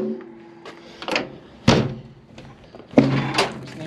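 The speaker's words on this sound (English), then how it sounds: "If I can get my door open." The cab door of a crane on a 5 ton military dump truck build is forced open, with several heavy metallic thunks and rattling bangs, close and loud, spaced over a few seconds.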